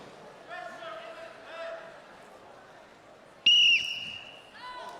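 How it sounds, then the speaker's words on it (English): A referee's whistle gives one sharp, loud blast at the start of a game, preceded and followed by faint voices and soft background activity. "Wait for my whistle."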